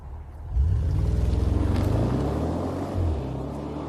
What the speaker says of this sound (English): the twin-turbo 4-litre TFSI V8 burbles into life with a potent rumble